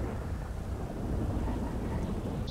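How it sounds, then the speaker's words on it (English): Thunder in the GTA roleplay game NoPixel rolls as a continuous low rumble with no sharp crack. It is moderately loud and steady throughout, and no voices sit over it. "It's fucking thunder."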